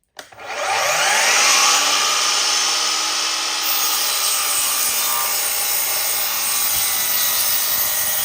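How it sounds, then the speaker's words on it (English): A miter saw spins up sharply and cuts through wood for floating bookshelves. A loud, sustained whining roar carries over the blade and holds steady after the opening surge, then eases slightly as the cut goes on. "now we're going to go and do the cut on the miter saw"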